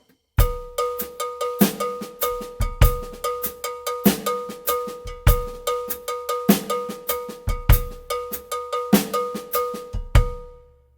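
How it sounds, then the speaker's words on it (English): Halftime shuffle pop drum groove with a 12/8 Afro-Cuban cowbell pattern on top; steady metallic bell strokes ride over deep kick and snare hits in a looping rhythm, close and loud. "The first one is like a halftime shuffle pop groove."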